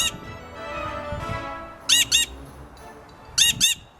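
A noisy bird gives loud, harsh squawks in two quick pairs, sharp and close, standing out above a quieter background of lower calls.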